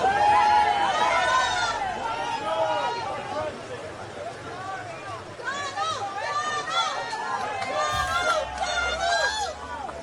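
A large outdoor crowd at a 9/11 memorial ceremony murmurs and chatters in a steady babble, with overlapping voices and occasional louder calls throughout.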